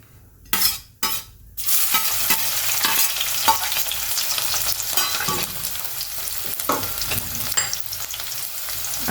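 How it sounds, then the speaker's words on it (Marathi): Garlic sizzles in hot oil for tempering a Maharashtrian fish curry. A couple of short bursts open the clip, then a loud, steady frying hiss continues up close with occasional stirring. "फोडणीला लसूण टाकायचा"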